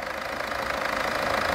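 A 2007 Ford Fusion 1.4 TDCi four-cylinder diesel idles with a steady, close clattering knock and a continuous mid-pitched engine drone, with no speech over it.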